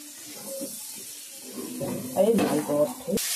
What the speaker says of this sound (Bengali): ভালো করে কষিয়ে ভাজা ভাজা করে নিয়ে নিচ্ছি বন্ধুরা